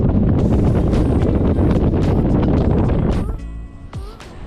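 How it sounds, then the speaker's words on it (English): Strong wind on a mountain top in the Carneddau, Wales, roars and buffets the microphone, loud and unbroken, then briefly eases near the end before gusting again. "So a fairly windy day up here"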